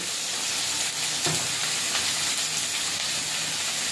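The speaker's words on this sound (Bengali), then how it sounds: "হলুদ গুঁড়ো দিয়ে ভালো করে একটু মশলাটা কষিয়ে নেব" Spice paste with prawns and ground turmeric sizzles steadily in a hot pan as it is sautéed, a dense, continuous frying hiss close by with a brief stirring scrape partway through and no speech.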